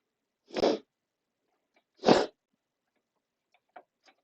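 Two loud, close sneezes about a second and a half apart, each a sharp broadband burst, followed by a couple of faint clicks in an otherwise quiet room.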